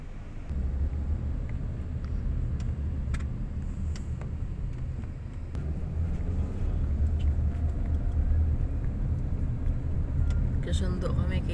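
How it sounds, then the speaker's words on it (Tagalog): Steady, loud low rumble of road traffic on a dusty, hot, congested street, with cars and motor vehicles passing close by and continuous engine noise throughout, occasional higher clatter over the drone. "Na traffic. Kala mo Manila lang may traffic,"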